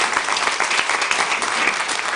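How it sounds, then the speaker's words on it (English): A crowd claps loudly and steadily for a panel moderator at a women's event, a dense close wash of many hands that holds at an even level throughout. "Let's give her a big round of applause."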